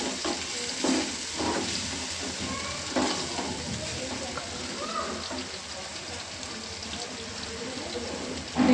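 Dried fish (shutki) fries with onion in hot oil, making a continuous crackling sizzle with occasional stirring scrapes, partly under a speaking voice.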